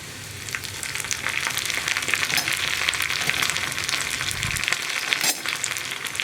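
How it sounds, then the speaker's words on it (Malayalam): Onions fry in hot oil with dried red chillies and curry leaves, a steady close sizzle with faint stirring scrapes and no voices. "ഇനി ഉള്ളി ഒന്ന് ബ്രൗൺ ആയി വരുന്നത് വരെ ഇളക്കി കൊടുക്കുക"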